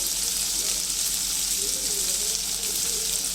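Chicken fries in a pan as part of a quick Tamil-style chicken fry, giving a dense continuous hiss and sizzle throughout, close and even in level.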